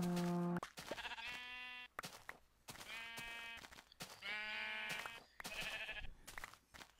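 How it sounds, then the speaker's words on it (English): Sheep bleat repeatedly while being sheared in modded Minecraft, a run of close, clear, wavering bleats separated by short pauses with no talking. "Let the sheep shearing commence."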